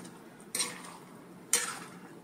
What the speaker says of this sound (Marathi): आणि आता ही व्यवस्थित ढवळून घेऊया.